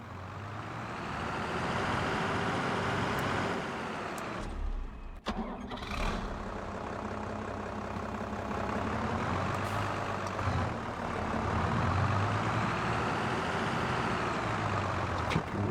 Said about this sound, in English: Maybe I'll shift the tractor out the way